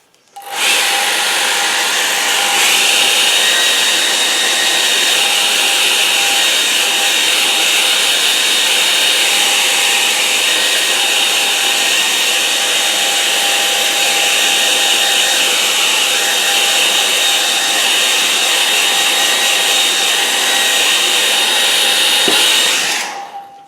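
A hair dryer drying paint on a snowy winter landscape, a loud, steady close-up blowing whir that switches on, runs unbroken for over twenty seconds, then cuts off, with no talking.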